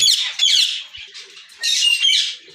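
Colony birds in an aviary give loud, harsh squawks, close by, in several bursts over a couple of seconds with no talking.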